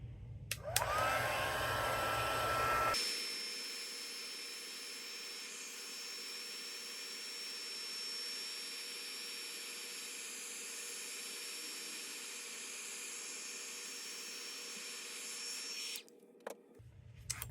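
A handheld heat tool blows hot air over an embossed paper snowflake for a papercraft card, a steady whooshing whine that runs continuously for about thirteen seconds after a brief start-up, close and alone before switching off.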